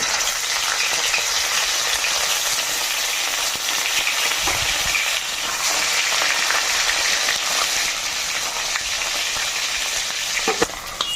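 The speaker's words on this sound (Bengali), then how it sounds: "তেল গরম হয়ে গেছে আমি পনিরের টুকরোগুলো ভেজে নেবো" Paneer pieces fry in hot oil with a dense, loud, unbroken hiss and crackle for the whole stretch, occasional faint utensil taps, and no talking.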